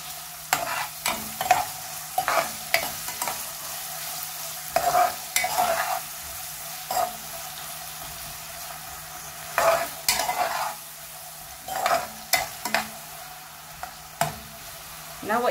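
Onions fry with salt in a pan under a steady soft sizzle, punctuated by irregular close scrapes and knocks of a spoon stirring, no voices.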